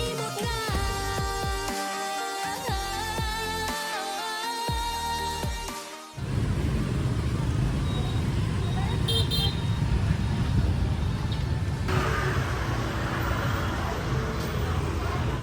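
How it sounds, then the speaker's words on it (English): Dense motorcycle traffic fills a street in Vietnam, a constant close roar of engines with scattered horn toots that sets in after a stretch of music. "The never-ending motorcycle traffic never ceased to amaze us"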